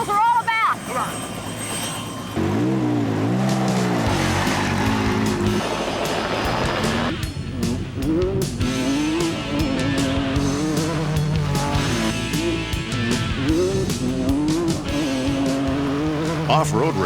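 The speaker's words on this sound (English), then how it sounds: "some of the most rugged race cars ever built, the off-road vehicles" Engines of Toyota off-road race cars roar and whine in the desert, loud and continuous with rising and falling pitch as the vehicles pass, while music and voices play over them.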